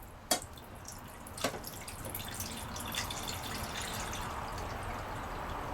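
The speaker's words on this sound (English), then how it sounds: "And then you add water" Water pours into a pot holding plantain, a couple of splashy drops at first, then a steady trickling stream filling the pot at close range.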